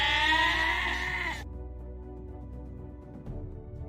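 A loud goat scream blares for about a second and a half, then cuts off abruptly, leaving a low hum and a faint click behind it.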